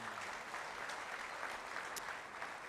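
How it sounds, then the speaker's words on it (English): Audience applause at a 2022 Bret Harte athletics hall of fame induction ceremony: steady, fairly faint clapping from a room of people, even throughout without voices. "a round of applause tonight for Emily Bergstrom Gwinnett"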